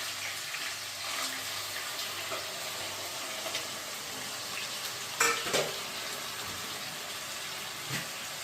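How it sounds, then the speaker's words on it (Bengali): Chopped onions frying in oil until browned, a continuous low crackling sizzle with a couple of short stirring scrapes, nearby and steady, with no talk. "পেঁয়াজটাকে খুব ভালো করে আমি এখন লাল লাল করে ভেজে নেব"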